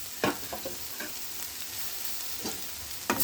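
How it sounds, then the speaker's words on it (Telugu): Tender tamarind leaves, dried shrimp and onions are stirred in a hot frying pan, with a steady soft sizzle and several sharp scraping strokes of a spatula spaced irregularly through the clip. "ఇప్పుడు ఫైనల్గా చింత చిగురు పెట్టేసుకొని కలియబెట్టుకుందాం"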